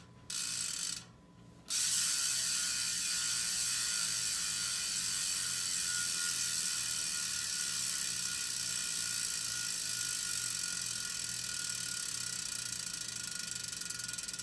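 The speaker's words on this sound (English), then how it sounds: "All right, here goes the spin test." Boyd Cycling 85 road wheel rear hub freewheeling in a spin test, a fast continuous ratcheting buzz of pawl clicks that starts after a brief pause and holds steady, close and alone.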